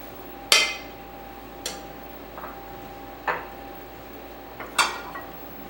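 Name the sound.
plating food onto dishes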